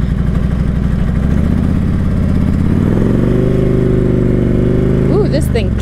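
A 2012 Harley-Davidson Street Glide motorcycle engine runs close and loud, a steady low V-twin idle lifting into a higher held rev, with a brief sharper sound near the end.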